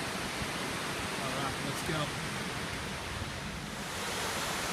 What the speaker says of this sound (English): there's a major waterfall over there, and the river's down there